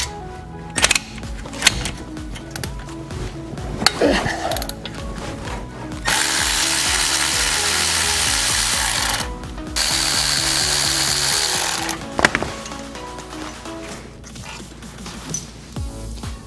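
A hand ratchet works on the two brake caliper mounting bolts at the back of a car's brake, with bursts of clicking and metallic clatter, including a steady loud stretch of repeated ratcheting. No one speaks.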